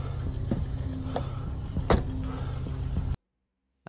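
Car idling and pulling away nearby, a low steady engine rumble with a few faint clicks and a sharper knock near the middle, cutting off abruptly into silence.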